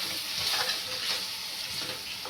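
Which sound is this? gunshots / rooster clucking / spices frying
spices frying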